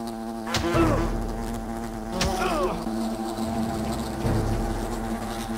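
Wasp enemies buzz in the video game Fable: The Lost Chapters, a loud, close, wavering drone with pitch swoops repeating as the insects dart around. It carries steadily throughout with no talk.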